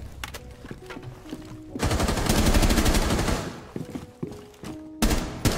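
Gunfire in a PC first-person shooter, with sharp single shots early, then a sustained loud automatic burst, followed by more scattered shots and a final burst, no talk over it.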